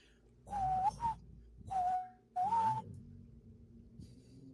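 Whistling that mimics another sound: three short, close melodic phrases with rising and wavering pitch, separated by pauses, with no talking over them.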